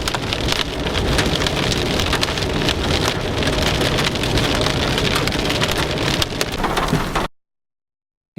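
Heavy rain and hail pound down during a storm chase near Dupree, South Dakota, in June 2010. A dense, loud, continuous hiss and patter fills the whole stretch with no talking, then cuts off abruptly into silence near the end.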